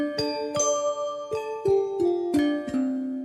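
Spring Chimes plugin chimes playing about seven clear, bright struck tones in a loose sequence, each ringing with a shimmering decay, soft and alone.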